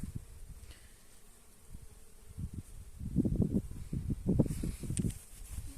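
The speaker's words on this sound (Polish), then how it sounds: "O, jak na Gorsicy pszczółka pięknie pracuje" A honeybee working buckwheat flowers in a field, a faint buzz at first that swells into louder, closer buzzing passes with light rustling toward the end.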